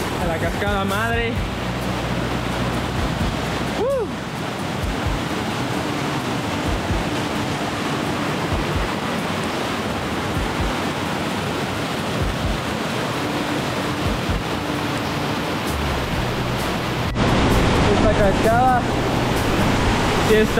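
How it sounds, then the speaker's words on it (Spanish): Cascada Madre waterfall near Mindo, Ecuador, roars as a steady broadband wash of falling water, loud and continuous throughout, with speech heard faintly over it. "Ya hemos llegado a la cascada madre."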